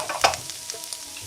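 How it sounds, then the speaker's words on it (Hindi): Chopped onions frying in a pan and being stirred as they turn translucent and light pink, with soft sizzling and a few scraping stir strokes, the loudest near the start and again at the end. "अब अनियंस को हमें बहुत ब्राउन नहीं करना है, उसे भूंजना नहीं है ज़्यादा, जस्ट ट्रांसलूसेंट होने तक ही इसे पकाना है।"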